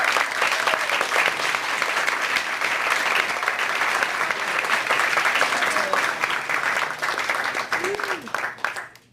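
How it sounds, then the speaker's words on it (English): Audience applause for a panel of Assyrian young professionals, a dense steady wash of clapping filling a hall for about nine seconds before tapering off, with faint voices mixed in. "Let's get a big round of applause for all these brilliant people."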